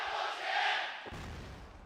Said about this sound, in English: they're screaming random stuff now. It's not even Jayos or cheers. I think they're yelling at each other